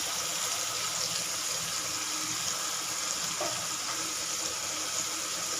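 Paneer pieces fry on a hot tawa with a steady, even sizzle and crackle that runs unbroken throughout, close and moderately loud, with no voices.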